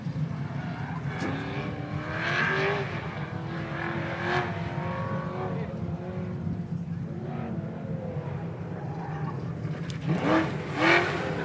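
A car is driven hard around an autocross course at a hot rod event, its engine revving and rising in steady passes with a brief tire squeal, heard from nearby at constant loudness.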